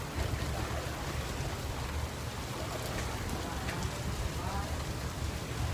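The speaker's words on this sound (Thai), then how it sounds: "ดูจากในน้ำนะครับฝนตกหน้าดูเลย" Rain pattering steadily onto a reservoir's water at a dam, a dense even hiss with a low rumble underneath, continuous throughout.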